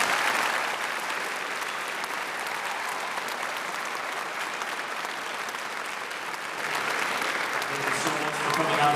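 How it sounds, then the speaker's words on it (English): Audience applauding a 6th grade band at a middle school spring concert, sustained clapping from a crowd that swells near the end, with a voice speaking over it. "Let's give a nice round of applause here for our 6th grade band."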